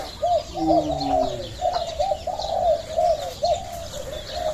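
A caged dove coos in repeated soft, rounded calls, close by, with faint chirps from other birds in a mixed aviary and a steady background hum.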